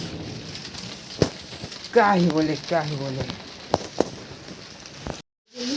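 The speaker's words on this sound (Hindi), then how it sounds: "यहाँ गलत एकदम खतरनाक बारिश होता है" A steady hiss of rain runs throughout while someone talks over it, the downpour staying constant in the background.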